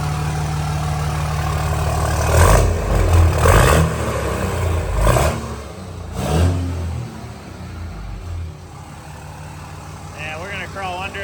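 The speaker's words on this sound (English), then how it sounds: "Oh yeah, sounds like a Cummins now." A 5.9 Cummins diesel engine in a dually truck, fitted with a 5-inch turbo-back exhaust and S&B intake, rumbles loudly and deeply, with several revs swelling and falling over the idle while people talk nearby.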